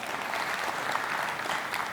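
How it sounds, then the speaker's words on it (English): Audience applause at a tax summit held at a Nairobi conference centre, a steady, moderately loud patter of many hands that holds an even level throughout, with no speech. "A round of applause for him as he comes up."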